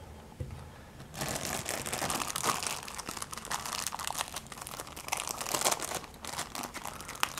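Crinkly plastic or foil wrapping being torn and crumpled while a tin of Wellauer Latakia Mixture pipe tobacco is opened, a near, continuous rustle of crackles and tearing bursts with no talk.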